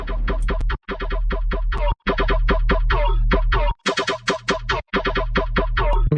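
A Serum 2 synth bass patch called Silk with formants pulses in short, rhythmic plucked notes carrying a deep low end and vocal-like tone, loud and alone with a few brief gaps.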